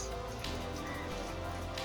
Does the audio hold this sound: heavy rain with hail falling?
yes